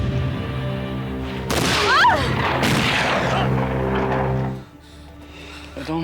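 A gunshot in a western film scene, one loud sharp blast followed by a ringing, fading echo over a continuous musical score.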